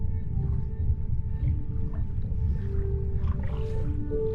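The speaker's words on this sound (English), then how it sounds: "The humpback whales that fill the oceans with their haunting song are but some of its giants." Humpback whale song underwater, with long tonal moans and rising calls layered over a dense low rumble of ocean noise, steady and continuous throughout.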